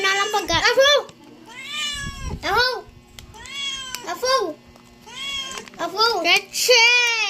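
A domestic cat meows repeatedly in rising and falling cries, several distinct meows close by and loud, with people talking in Tagalog around them.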